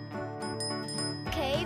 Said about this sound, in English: I've got a special bell that takes care of it all